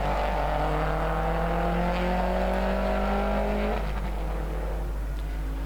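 Group 2 race cars circle Hampton Downs, led by a Corvette with an S15 and a Porsche 996 following, engines droning steadily at high revs with rising pitch before shifting down, loud and sustained with a constant low rumble underneath.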